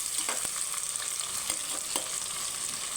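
Onions fry with cardamom, cinnamon and cloves for biryani, giving a steady, fairly quiet hiss of sizzling oil punctuated by a few sharp stirring clicks and scrapes, with no voices.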